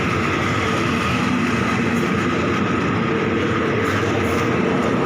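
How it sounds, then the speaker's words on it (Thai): Thai express train 111 with a Hitachi 4520 locomotive at a station gives a loud, steady rumble and roar, close by and unbroken, with a faint metallic rattle over it. "รถจอดเกือบเลยสถานีวันเนี้ย"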